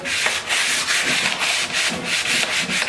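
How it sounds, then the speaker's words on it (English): Sandpaper rubs back and forth along a wooden garden tool handle in steady, rhythmic strokes, close and alone. "sand it down naturally until you don't feel any splinters"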